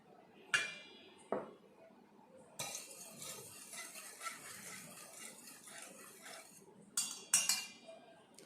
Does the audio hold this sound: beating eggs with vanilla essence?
yes